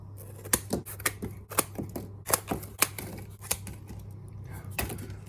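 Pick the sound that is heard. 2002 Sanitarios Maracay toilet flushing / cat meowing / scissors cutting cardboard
scissors cutting cardboard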